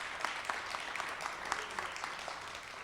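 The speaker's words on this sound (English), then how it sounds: "Let's give him a round of applause." Audience applause at a contracting program graduation ceremony, a faint, thin patter of scattered claps from a modest crowd, heard at a distance and steady throughout.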